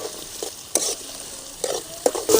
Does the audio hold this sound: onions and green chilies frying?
yes